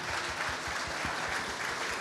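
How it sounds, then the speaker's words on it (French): Steady applause from an audience, dense and continuous, with many hands clapping at an even level throughout. "Merci de les applaudir tous les deux."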